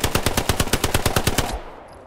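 Rapid automatic gunfire in the Hell Let Loose video game: a burst of about a dozen evenly spaced loud shots over one and a half seconds, then a fading echoing tail.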